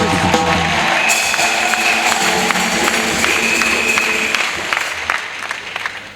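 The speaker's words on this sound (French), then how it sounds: "Acclamation à Jésus-Christ." Loud, sustained applause from a church crowd at a missionary send-off, steady clapping that fills the whole clip and thins slightly near the end.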